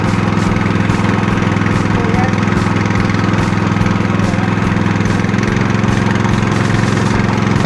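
A petrol engine drives a sand suction pump at half throttle, running loud and close as a steady, rough mid-pitched drone with a fast, even mechanical pulse that never lets up.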